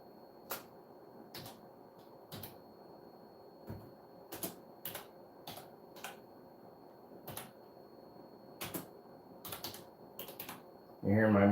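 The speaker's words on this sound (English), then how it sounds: "You hear my bad typing." Uneven typing on a computer keyboard, sparse clicks and short bursts of keystrokes in a quiet room, moderately close, with a louder thump at the very end.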